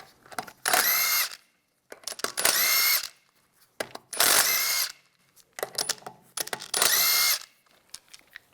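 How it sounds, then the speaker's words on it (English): Power tool whirring in repeated bursts as a 17mm socket spins lug bolts off the rear wheels of a 1998-2010 Volkswagen Beetle, five loud near runs separated by short pauses with faint clicks between. "We're going to take off both rear tires using a 17mm socket."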